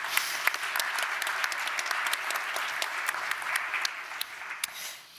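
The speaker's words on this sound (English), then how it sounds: "A warm applause for Tobias Koehler from Onsai." An audience at a travel technology startup pitch session gives sustained, steady applause for a presenter, a dense wash of clapping that holds for several seconds before easing off at the end.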